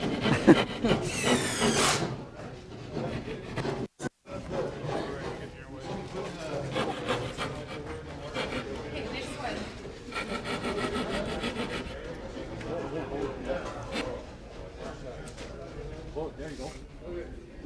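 A cabinet maker cutting a round hole in wood gives a continuous close rasping, sawing and rubbing sound that runs nearly the whole time, with people talking over it.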